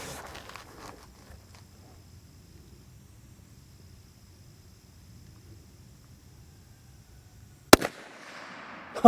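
A Volquartsen Scorpion .22 WMR pistol fires once, a single sharp crack followed by a fainter metallic ping as the round strikes a 3-inch steel plate 100 yards away, after a long quiet stretch of outdoor ambience.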